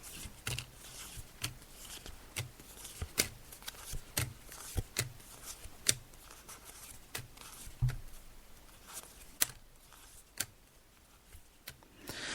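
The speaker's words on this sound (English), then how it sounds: "So I'm just shuffling the cards, as you can hear, Jenny." Tarot cards are shuffled repeatedly, giving a run of crisp, irregular flicks and riffles, close and fairly quiet, with no talking.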